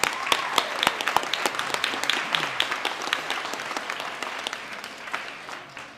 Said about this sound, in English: So let's give Mr. Matsuda a round of applause and welcome him.